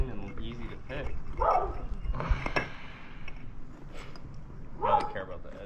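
Dogs barking outdoors, a couple of sharp barks and yips at moderate distance mixed in among people talking nearby.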